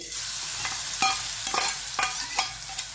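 Green chili, garlic and crushed peanuts frying in hot oil for methi bhaji, giving a steady loud sizzle with periodic scraping stirs about every half second.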